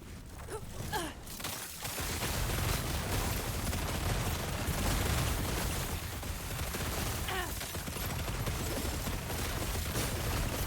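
Bombs go off in a video game, with a burst of crackling explosive blasts near the start and further rumbling detonations amid a dense, busy stretch of game noise.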